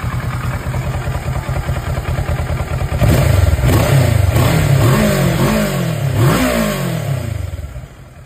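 Kawasaki Versys 650 motorcycle after an oil change with AMSOIL 10W-40 synthetic: a steady idle, then several sharp close revs rising and falling before settling back down.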